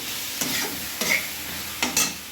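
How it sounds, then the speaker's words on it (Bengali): Potato pieces frying in a pan of browning chicken, a continuous bright sizzle broken by three sharp bursts of stirring and spattering, close and loud with no voices. "এর সঙ্গে আমি কয়েক টুকরো আলু দিয়ে দিলাম"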